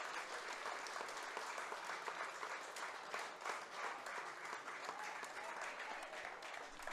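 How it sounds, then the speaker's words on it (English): A room full of people at a fundraiser applauds enthusiastically, with continuous overlapping clapping heard at a slight distance, faint cheers mixed in. "This is why the room went crazy. Everybody was clapping."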